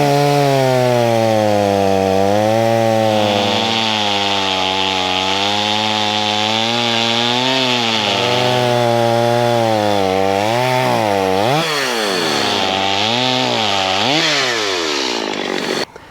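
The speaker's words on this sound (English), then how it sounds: "chopped off on this log" Chainsaw fitted with an old, hand-filed used chain bucks through a log outdoors, engine roaring loud and steady throughout, its pitch sagging and rising as the cut loads and frees, with sharp revving swells near the end.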